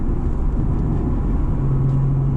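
Acura NSX mid-engine sports car driving smoothly, a steady low road and engine rumble heard from inside the cabin, with a faint hum rising near the end.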